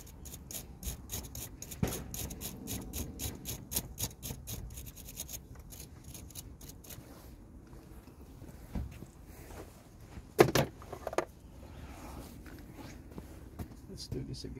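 Rhythmic scraping strokes of sandpaper cleaning a car part, steady and close at first, then sparser, with a voice talking over parts of it.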